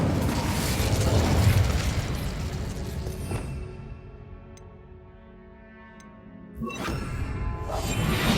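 A Confringo spell in Hogwarts Legacy goes off as a fiery blast, a loud rumbling burst that fades into a quiet lull before a second sharp crack and renewed rumble, with no talk.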